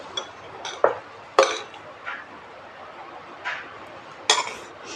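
Strawberry ice cream being spooned into small kulfi pots at home, a series of sharp clinks and taps from spoon against pots at an irregular pace, with soft handling noise in between.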